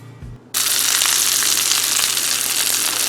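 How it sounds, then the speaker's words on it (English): A beef, pork or lamb roast browning in a skillet breaks into a loud, close, continuous sizzle after a brief quiet moment at the start and holds steady to the end. "Brown your roast, whether pork, beef, or lamb, in a skillet"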